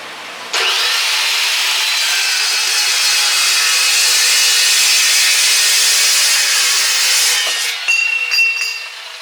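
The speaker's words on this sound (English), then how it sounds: "Evo saw works good." An Evolution power saw cuts steel tubing for a dune buggy roll bar in one long, loud, steady whine lasting several seconds, then it winds down and a few metallic clinks follow.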